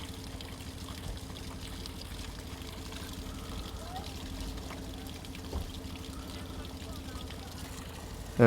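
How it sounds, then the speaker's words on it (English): Fresh spring water pours steadily from a roadside water station in Albania, a soft continuous splashing stream heard at low level with faint background noise. "You can see the spring water just coming through."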